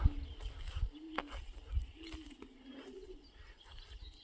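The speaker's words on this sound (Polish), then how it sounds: "Ok, tu moje gołąbki." Pigeons at an old loft coo softly in low, rounded calls, with a few faint chirps over quiet outdoor background.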